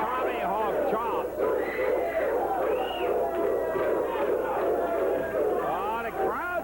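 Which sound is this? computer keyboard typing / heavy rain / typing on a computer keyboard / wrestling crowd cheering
wrestling crowd cheering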